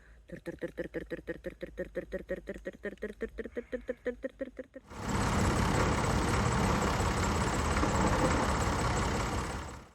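A voice rapidly imitates a rattling engine with rhythmic syllables, then a loud, steady tractor engine roars continuously until the end.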